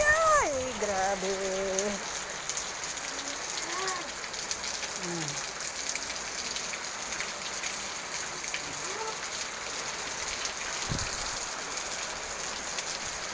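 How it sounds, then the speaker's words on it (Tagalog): Heavy rain pours off a house roof in a constant, loud rush of water with no break, while voices are heard faintly in the first seconds. "Grabe ang lakas ng tulo, oh. Ulan."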